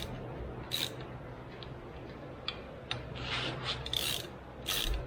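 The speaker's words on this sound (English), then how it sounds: "Trying to slowly pull the bolts in where the bell housing sucks in nice and even." Short bursts of ratchet clicking come from tightening the bell housing bolts that join a Pontiac Turbo 350 transmission to an LS engine, close and crisp, in several separate spurts with pauses of quieter shop background between them.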